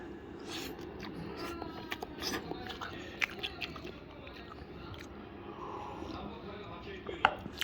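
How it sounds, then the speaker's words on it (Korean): Quiet, close chewing and biting sounds from someone eating food during a mukbang, soft crunches and squishy mouth noises recurring irregularly over a low background. "이거 먹게요"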